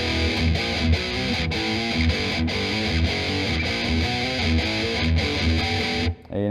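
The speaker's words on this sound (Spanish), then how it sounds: "Y quedamos otra vez en este power chord, segundo traste, quinta, cuarta cuerda, sexta al aire." Distorted electric guitar power chords, including an open sixth string, chug through a song's main riff, loud and continuous with rhythmic stops, before a brief cutoff near the end.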